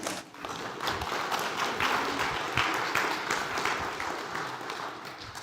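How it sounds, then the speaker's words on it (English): A church congregation claps steadily at a Sunday service for a performance of five flutes and two harps, with dense and fairly loud applause sustained throughout. "You can clap"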